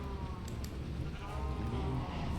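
Minecraft sheep bleat over a low, steady background rumble, the cries soft and somewhat distant.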